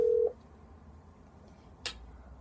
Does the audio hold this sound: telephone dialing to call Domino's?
yes